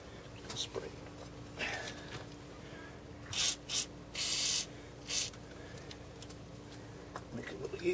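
Short bursts of aerosol lubricant sprayed onto a Nissan Hardbody VG30E timing crankshaft sprocket, several quick close hisses clustered mid-way, with faint rustling and soft background sounds around them.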